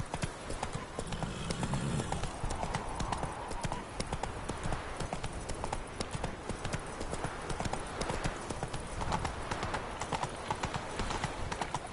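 The horse Roach galloping in a video game, a fast, even clip-clop of hooves running steadily for the whole stretch, with a short whinny early on and a faint voice over the hoofbeats.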